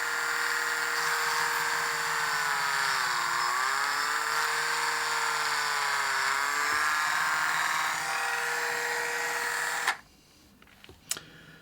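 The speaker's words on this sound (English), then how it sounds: "So on this bit, the rear here, you want to drill 2 holes side by side." A small drill whines steadily while boring holes into the rear body of a DJH 2MT 2-6-0 model locomotive kit, close and continuous, its pitch dipping briefly under load before it stops and a couple of faint handling clicks follow.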